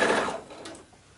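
A sewing machine runs briefly as it stitches ready-made bias tape along a folded line on a quilted Christmas tree skirt, a short close whirr that fades out within a second.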